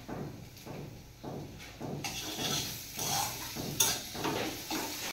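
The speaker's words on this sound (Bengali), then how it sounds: "কড়াইতে দিয়ে দেওয়ার পর সেটি অনেকক্ষণ ধরে নাড়াচাড়া করতে হবে মিডিয়াম ফ্লেমে।" Teasel gourd and potato filling frying in a wok over a medium flame, stirred with a spatula in repeated scraping strokes over a soft sizzle, growing brighter partway through.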